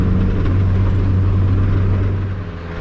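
A Mazda NA Miata with a Tomei 2-way limited-slip differential driving in a circle, its engine droning steadily and loudly from inside the cabin before easing off slightly near the end.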